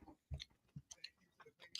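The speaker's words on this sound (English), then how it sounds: "chewing so loud I can't fucking hear anything" A person chews loudly near the microphone, giving several irregular wet bursts and clicks in quick succession, with faint talk in the background of an NFL draft watch party stream.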